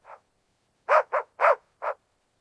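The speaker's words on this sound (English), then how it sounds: "His bark is not playful. It is sharp, alert." A dog on a rocky hillside barks sharply in alert, a short yelp followed by four loud, close, clipped barks in quick succession, with no talking.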